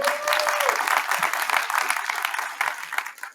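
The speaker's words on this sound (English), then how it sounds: "Can we get a big applause for that?" An audience at a 2022 local candidates' forum in Parke County applauds loudly and steadily, the clapping thinning and tapering off toward the end.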